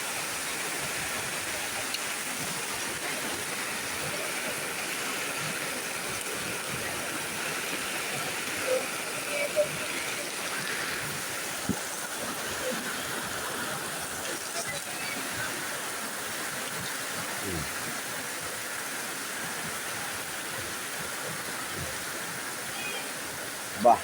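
Floodwater from a breached embankment in North Aceh rushes past as a steady, broad roar of flowing water, continuous and fairly close, with a few faint knocks; no clear talk over it.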